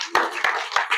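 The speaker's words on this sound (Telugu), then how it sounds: "క్లాప్స్ కొట్టండి." Hands clap at a lunar eclipse demonstration in a district science centre: four crisp, evenly spaced claps, close and fairly loud, in a quiet room.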